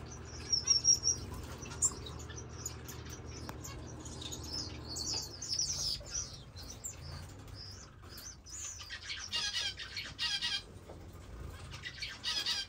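Captive finches chirping in high, bright tweets alongside soft bursts of wing flapping, close and fairly quiet, repeated irregularly throughout with no talking.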